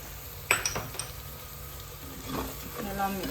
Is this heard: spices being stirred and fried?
yes